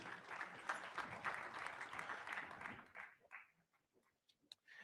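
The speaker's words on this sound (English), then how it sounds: "Round of applause one more time, please." A large crowd applauds at a Super Bowl pregame show, dense clapping for about three seconds before it thins to scattered claps and fades away.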